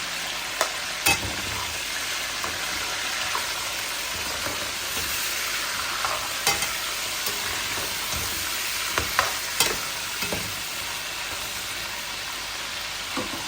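Chopped tomatoes frying in a pan for karela gosht, bitter gourd and meat curry, giving a steady loud sizzle with occasional stirring clicks and scrapes throughout, no voices.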